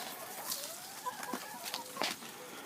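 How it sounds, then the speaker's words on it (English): Chickens cluck and murmur in a backyard chicken run, several soft overlapping calls and brief squawks at a moderate distance, quiet and without talk. "my chicken run."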